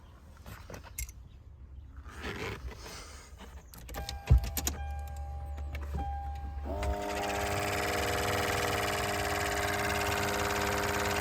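In a Lexus GX470 with a rodent nest in the ventry, the climate control blower starts after a few clicks and button beeps, then settles into a loud, steady whirring roar with a harmonic whine.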